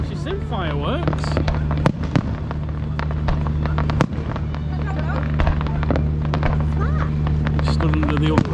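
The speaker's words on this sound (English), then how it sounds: "There's the first time she's seen fireworks." Fireworks burst at an outdoor Queen's Jubilee celebration in Morecambe, sharp cracks popping at intervals over a steady low rumble of crowd and fairground noise, with people talking throughout.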